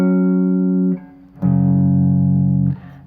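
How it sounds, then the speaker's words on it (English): An electric guitar plays sustained perfect-fifth power chords, two ringing, droning chords separated by a brief pause, loud and alone with a slight fuzzy edge. "in order to get that sound, it moves through perfect fifths, which are the basis of power chords"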